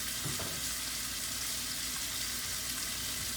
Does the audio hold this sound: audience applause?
no